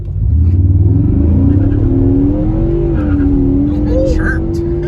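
A 2022 Ford Mustang EcoBoost launches hard in drag mode, the engine revving up loud and close as the rear tires chirp, with voices in the car under the noise.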